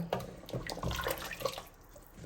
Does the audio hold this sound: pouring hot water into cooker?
yes